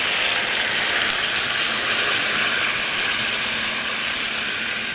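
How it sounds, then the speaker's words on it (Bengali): Water pours steadily into a cooking pot of braised quail meat, a loud, unbroken rushing gush lasting several seconds with no talking. "এখন পানি দিচ্ছি।"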